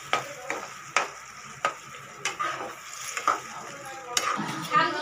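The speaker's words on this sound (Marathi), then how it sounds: "ह्याला तेल सुटेपर्यंत हलवायचे, म्हणजे शिजून जाईल पूर्ण मस्तपैकी." Biryani masala frying in oil while being stirred, with repeated sharp spoon scrapes and knocks against the pan over a soft sizzle, close and rhythmic.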